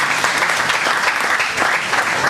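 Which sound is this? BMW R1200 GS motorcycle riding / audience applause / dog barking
audience applause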